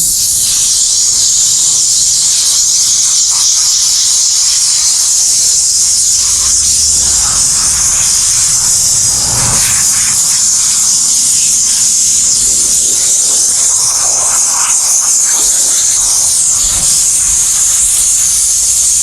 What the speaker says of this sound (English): Now clean it with the steam.